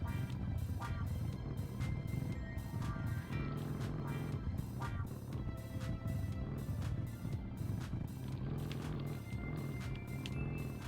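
Video game car engine roaring at full throttle while climbing a vertical wall ride, a steady dense drone held loud and unbroken, with repeated clicking or ticking pulses over it throughout.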